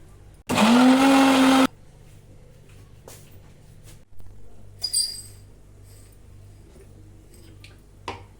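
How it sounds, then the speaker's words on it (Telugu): A mixer grinder blends chicken masala paste in one loud, steady whir lasting just over a second, then cuts off, leaving quiet kitchen background with a few faint clinks. "మిక్సీ ఆడేద్దామండి."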